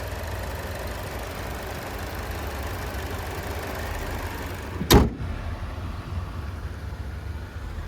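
The 1.4-liter turbocharged four-cylinder engine of a 2019 Chevrolet Trax LS idles quietly and steadily, with a single sharp click or thump near the end, and no one speaks.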